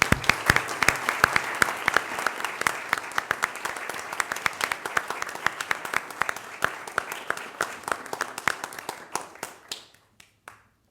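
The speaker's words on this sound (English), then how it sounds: "join me in a round of applause for two individuals" Audience at a school recognitions meeting applauds two honored staff members, a brisk, crisp run of many claps that holds steady, then thins to a few last claps and stops near the end.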